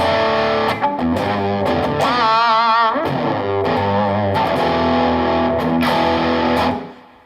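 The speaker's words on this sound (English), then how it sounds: "with electric, we can get distortion" An electric guitar played through distortion, thick saturated power chords ringing loud and sustained with a bending, wavering passage in the middle before the final chord fades out.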